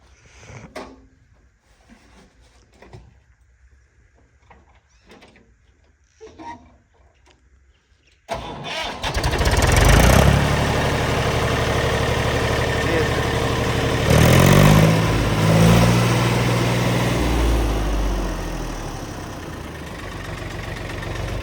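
Low voices talk quietly, then a heavy tractor engine is started with its self-starter, cranking and roaring to life, running loudly and steadily until the end.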